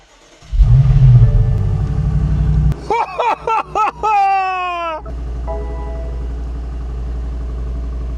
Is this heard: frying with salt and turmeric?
no